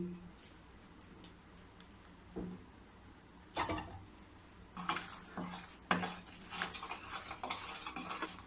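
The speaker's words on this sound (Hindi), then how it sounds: "अब बीच बीच में मैं ये छोलनी ली हूँ, इसको निकाल के बीच बीच में इस तरीके से काच काच के इसी में डालते रहूंगी" A metal ladle scrapes and taps through a khoya mixture in a pan while barfi is being made. The scrapes and clinks come in scattered, irregular strokes, quiet and close, with no talk.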